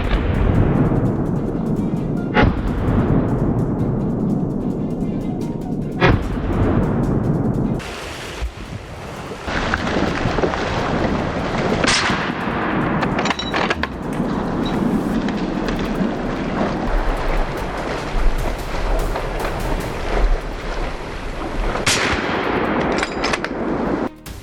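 Rifle shots crack out during a wild boar hunt among farmland, several sharp loud reports spaced across a windy, blustery background with rumbling noise throughout.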